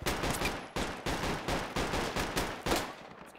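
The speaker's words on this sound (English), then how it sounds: "I got a RPG firing some fucking where." Gunfire in the military shooter Project Reality: a steady series of about seven loud, evenly spaced gunshots, each sharp crack decaying quickly, with no voices over them.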